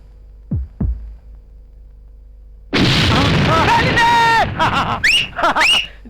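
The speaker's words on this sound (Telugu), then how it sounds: "ఆపరేషన్ కిచెన్ బ్లాస్ట్ నీ కోడలు పేలిపోతుంది" A kitchen blast in a Telugu comedy film scene goes off as one sudden, loud, full-bodied boom after a quiet stretch with two soft thumps, followed at once by a burst of shouting and yelling voices.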